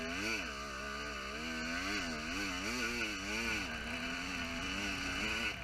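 Motocross bike engine on a 450 race machine after losing its clutch, droning loud and continuous up close with rising and falling revs wavering through the whole stretch, no talk.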